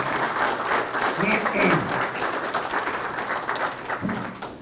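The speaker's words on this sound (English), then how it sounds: "Hold your applause." A meeting audience claps for an award winner, moderate and fairly even applause filling the room, with voices talking over it.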